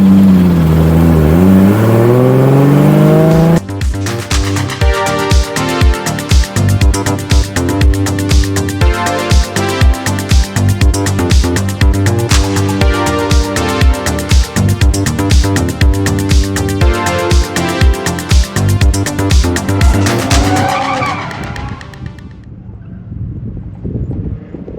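A drift car on track at Utah Motorsports Campus, loud and close. The engine climbs in pitch, then holds a hard, pulsing, bouncing rev for about twenty seconds before it drops away.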